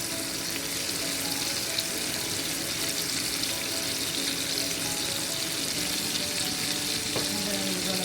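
T-bone steak frying in a hot pan, a loud, steady crackling sizzle that continues throughout with occasional spits and faint clatter nearby.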